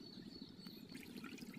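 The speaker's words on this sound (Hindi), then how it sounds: "ये पाइप से आ रहा है पानी।" Irrigation water runs steadily from a pipe into a large farm field, a soft continuous trickling flow at close range with no voices, faint and unbroken throughout.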